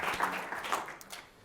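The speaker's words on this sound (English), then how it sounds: "let's give them a round of applause" Brief applause from an audience at a community meeting, scattered hand clapping that fades quickly over about a second.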